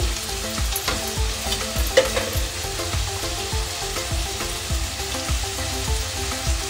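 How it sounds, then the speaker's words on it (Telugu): Potato curry with salt and turmeric sizzles steadily in a hot pan, close and loud, while a spoon stirs it with regular scraping strokes. "మనం ఫ్రై చేసుకుందాం"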